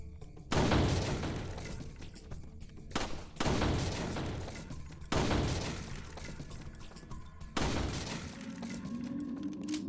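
Gunshots in Resident Evil 4, four separate loud, close blasts spaced a couple of seconds apart, each trailing off in a long echoing decay, with a rising mechanical tone after the last one.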